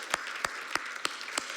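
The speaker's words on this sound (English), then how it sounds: "let's pause for applause." Applause at a literary podcast conversation with an author, heard as five faint, crisp claps spaced evenly about a third of a second apart, sparse rather than a full crowd.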